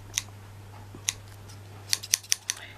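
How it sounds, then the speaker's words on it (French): Blunt scissors cutting cord while making fancy bag charms, sparse sharp snips at first, then a quicker cluster of five or six snips, close and crisp, with no talk. "Fatigue mes ciseaux."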